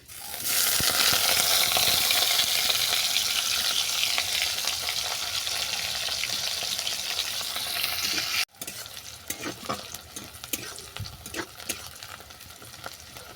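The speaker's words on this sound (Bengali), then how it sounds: "পেঁয়াজটা ভাজতে ভাজতে নরম হয়ে গেছে" Loud, steady sizzling of chopped onions frying in hot mustard oil, dropping suddenly to a quieter sizzle with scattered clicks and scrapes of stirring.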